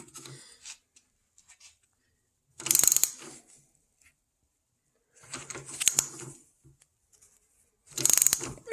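A tool turns the rear brake caliper piston back on a Mustang Cobra. It gives three separate bursts of clicking, ratcheting mechanical noise, close up with short pauses between them.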